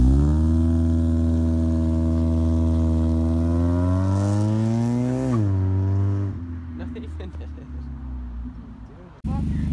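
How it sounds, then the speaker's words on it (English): A Mazda Miata doing a burnout, its engine revving hard and held at high pitch, then dropping as tire noise and scrabbling take over, with a brief loud surge at the very end. "attempt two of a burnout in a Miata"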